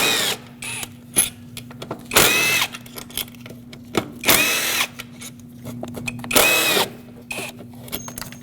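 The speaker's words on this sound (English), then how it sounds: "so let's remove all 4 bolts." A power tool spins out four bolts holding a part to the throttle body of a 2006-2015 Lexus IS250 during spark plug work, in several loud whirring bursts with short clicks and pauses between them, heard close.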